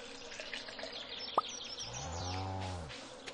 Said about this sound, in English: We could just get the buzzing bee sound effect.